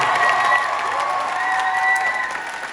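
An audience claps steadily throughout at a live concert in Winnipeg, Canada, a dense wash of applause with faint cheering mixed in.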